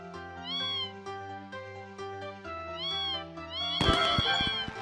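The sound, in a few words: cat meowing when petted in video game Desktop Survivor 98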